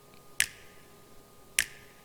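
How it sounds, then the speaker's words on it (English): Two crisp finger snaps used as a drum beat sample, sharp isolated clicks about a second apart over a quiet background. "Kong 2 is just a finger snap."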